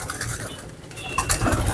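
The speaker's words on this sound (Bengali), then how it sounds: "আমার এখানে কবুতর আছে 2 থেকে 250।" Pigeons in a flock of around 250 birds coo close by, soft murmuring calls mixed with faint clinks and fluttering, continuous through the short moment without speech.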